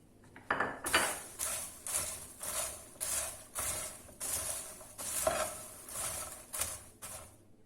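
Popcorn being mixed with ground dried tomato, mixed spices and salt, a close rhythmic series of rattling, rustling tosses repeating about every half second, with no talking.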